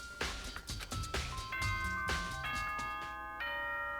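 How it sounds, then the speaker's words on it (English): A ding-dong announcement chime from the Danganronpa video game rings out as a short run of bright, sustained bell tones. The notes ring one after another and overlap as they decay, with no voices. "Ding dong bing bong."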